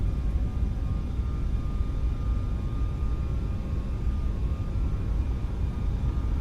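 Boeing 737 MAX 8 takeoff roll in Microsoft Flight Simulator, a steady loud low-pitched engine and runway rumble that holds constant throughout without breaks.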